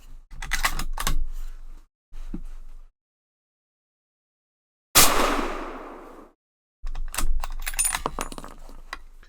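A Savage 110 Precision rifle in 300 Win Mag fires a single loud, close shot with a 135 grain Sierra Varminter load, its sharp crack followed by a decaying boom, set between stretches of handling clatter and clicks.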